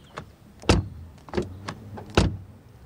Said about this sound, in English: First of all, door closing sound.